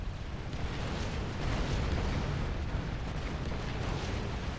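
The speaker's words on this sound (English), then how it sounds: "Lobster doing circles to avoid the Brackman shells as much as possible." Brackman artillery shells from Supreme Commander explode as tanks fight, a steady low, distant-sounding rumble of overlapping blasts that stays fairly quiet and continuous with no clear gaps.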